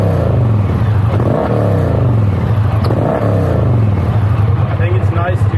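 A motorcycle fitted with a Dr. Jekill & Mr. Hyde exhaust system, its valve open, revs loudly and close with a deep, throaty roar that surges and falls in repeated throttle blips, a voice briefly audible underneath.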